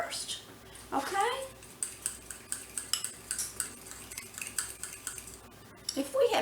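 A spoon clinks rhythmically against a bowl while flour is mixed for a fudge pie, a quick run of close, bright taps repeated over several seconds.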